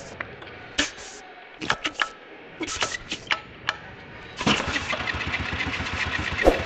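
A GY6 scooter engine being kickstarted: several short sputtering bursts with gaps between them, then the motor catches and settles into a steady, pulsing idle up close.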